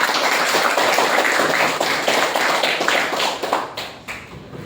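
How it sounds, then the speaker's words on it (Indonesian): An audience at a presentation claps together in a dense, sustained round of applause that stays loud and even before tapering off toward the end. "Tepuk tangan yang sangat luar biasa."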